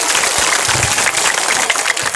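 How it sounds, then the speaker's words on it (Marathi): An audience claps steadily for Modi at a BJP women's wing address in Maharashtra, the dense applause continuing at an even level for the whole moment with no voices over it. "मग एकदा टाळ्या वाजवा मोदींसाठी"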